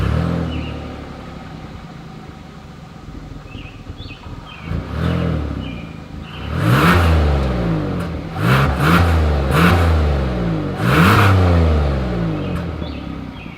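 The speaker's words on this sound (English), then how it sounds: "here is that exhaust clip" A 2022 Hyundai Palisade SUV engine idles at start-up, then revs repeatedly with loud rising exhaust roars and a few short chirps in between, close to the microphone.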